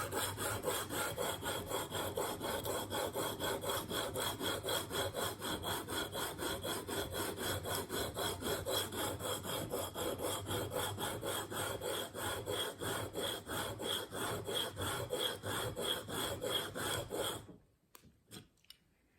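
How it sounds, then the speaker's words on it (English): A single-bevel broadhead is worked back and forth across a sharpening stone, giving a steady, close rasping scrape that continues without a break for most of the clip and then stops abruptly with a few light touches. "I'm moving back and forth across the stone."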